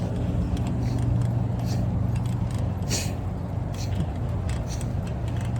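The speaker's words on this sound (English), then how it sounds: "there's a big line of cars here going to the BJ's gas" A line of cars queuing for gas at a BJ's station: low idling engine rumble with faint passing traffic noise and occasional hissy bursts, steady and close.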